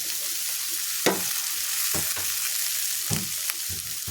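Cluster beans (chavalikai) sizzle steadily in hot oil in a pan, with a continuous frying hiss broken by a few soft clinks and scrapes of stirring.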